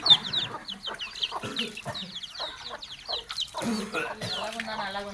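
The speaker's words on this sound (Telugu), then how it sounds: "కోడి పిల్లలు మనయేనా బయటికి రండి" Chicks and chickens cluck and chirp repeatedly, close by, with someone talking over and between the bird calls.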